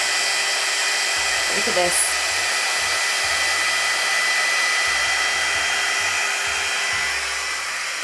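A hair-drying straightener blows a steady, loud, close rush of air while styling hair, running continuously throughout as someone speaks briefly over it.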